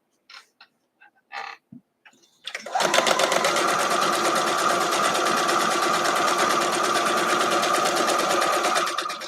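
A few scattered taps and clicks, then a sewing machine starts up and runs steadily, stitching a quarter-inch seam along seam tape on a Nordic sweater block, a fast even rattle held at constant loudness to the end.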